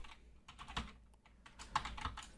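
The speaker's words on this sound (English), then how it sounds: "In this new class, let's type something." Fingers type Java code on a computer keyboard in quick irregular bursts of close key clicks with brief pauses between words.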